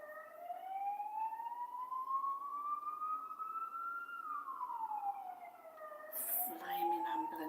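An ambulance siren wails steadily, its pitch rising and falling as it passes fairly close, with a brief sharp noise near the end.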